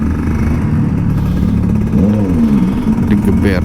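A big motorcycle revs close by with a loud, deep engine rumble that rises and falls, while a voice speaks over it.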